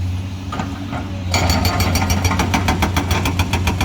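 Komatsu PC200-8 excavator fitted with a hydraulic rock breaker, an idling diesel engine joined after a few weak strikes by a loud, rapid, even train of sharp metallic hammer blows pounding hard rock at close range.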